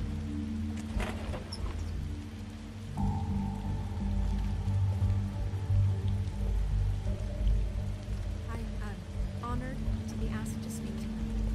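Rain in the video game The Wolf Among Us, a steady patter and hiss running beneath ongoing dialogue and background drones, with music-like tones drifting in and out.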